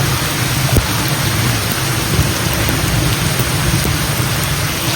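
Heavy rain pours down in a dense, unbroken roar, loud and close, with a low rumble beneath and a few scattered sharper taps, and no voices.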